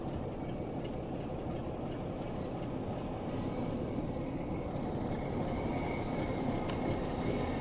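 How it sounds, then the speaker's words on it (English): A Class 465 electric train rolls in during Train Sim World 3 on Southeastern High Speed, a steady broadband rumble and wheel noise sustained throughout, fairly loud and continuous with no voices. "Here comes the 465."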